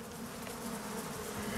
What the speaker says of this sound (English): Look at all those chicken bees.